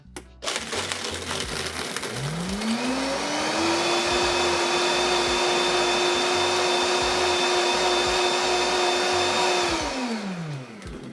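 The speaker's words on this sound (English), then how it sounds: "And then blend." A countertop blender crushes ice into a matcha drink. The motor spins up, holds a loud, steady grinding whir for about seven seconds, then winds down, with no voices.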